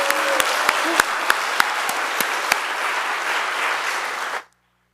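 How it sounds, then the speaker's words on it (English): Audience at a Getting Ahead graduation ceremony applauding, a steady wash of clapping from many hands with a few sharp individual claps standing out, ending abruptly in silence. "we will give her a round of applause because she did it too"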